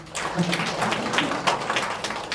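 A room of attendees at a public hearing on an urban regeneration plan, held in a city hall briefing room, breaks into a short burst of brisk clapping that carries on steadily to the end without talk.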